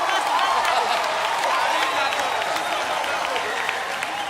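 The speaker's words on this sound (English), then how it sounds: "Can we have some more applause for the Naturals" Audience applause and cheering on a televised talent show stage, a dense wash of clapping with crowd noise and some talk mixed in, fairly loud and continuous.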